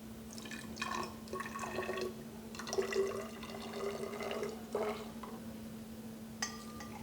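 Water is poured in while mixing a homemade face wash gel, a bright liquid trickle in several short bursts over a steady low hum, close and moderately loud.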